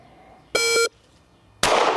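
A shot timer gives a short, loud electronic start beep during a Mantis X10 dry-fire training drill, followed after a brief silence by a sharp, loud burst of noise.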